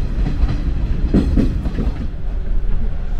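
A 185 series Odoriko limited express runs at speed on the Tokaido Line, heard from inside: a steady loud rumble with rhythmic clickety-clack of wheels over rail joints.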